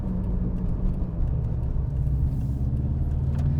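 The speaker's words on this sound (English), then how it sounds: "with that boxer rumble just sat burbling away beneath it all" A 2000 Subaru Impreza Turbo with AWD gives a steady, close boxer-engine rumble and burble, with drivetrain whir layered over it, continuous and alone throughout.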